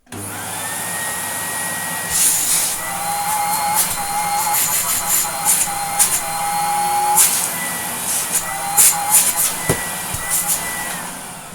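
A restored 1980s Electrolux Z2000 vacuum cleaner runs with its hose attached, producing a loud, steady motor whine and airy rush that shifts slightly in pitch, with brief rattles and bumps near the end.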